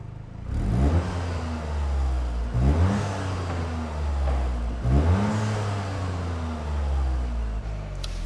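Toyota GR Yaris fitted with an Aulitzky OPF-back exhaust, valve closed in normal mode, revving in three repeated rises and falls, a steady mid-pitched engine note swelling and easing back, close and fairly loud with no talk.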